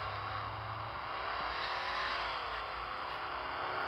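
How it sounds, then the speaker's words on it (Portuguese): A car engine in a mobile racing video game roars and whines continuously, holding a steady revving drone close up, with no talking over it. "O ronco do carro, tudo."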